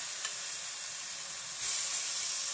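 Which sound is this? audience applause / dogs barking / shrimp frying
shrimp frying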